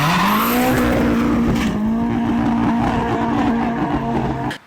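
SR20-powered KE70 Corolla drift car with an RB20 gearbox and R31 diff, its engine howling steadily at high revs with tyre squeal and skidding throughout, loud and close, cutting off abruptly at the end.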